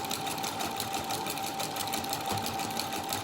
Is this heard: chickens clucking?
no